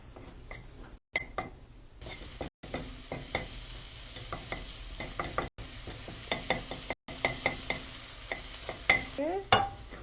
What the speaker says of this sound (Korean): 소금과 후추로 간을 해놨던 간은 소고기를 먼저 볶아놓습니다.